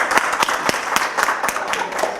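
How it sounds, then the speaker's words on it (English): Audience applause greets someone speaker at a business breakfast, a steady spread of nearby hand claps with sharper individual claps standing out, continuing throughout. "round of applause."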